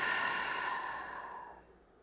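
A deep, slow exhale during gentle yoga, one long airy breath that starts close and full and gradually fades out over about two seconds.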